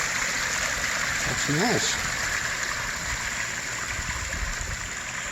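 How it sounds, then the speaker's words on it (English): Water pours steadily down a small pondless waterfall in a steady, close rush, with a person briefly speaking over the flow. "Nice little pondless waterfall."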